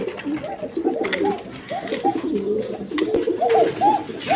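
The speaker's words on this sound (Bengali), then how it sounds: "এতক্ষণ ধরে কোকাটা ডাকতেছে ডাকাটাই করতেছে খুব প্রচুর ডাকা ডাকে" Pashiraj pigeons cooing repeatedly at close range, a steady run of soft, rolling coos overlapping one another for several seconds with faint background noise.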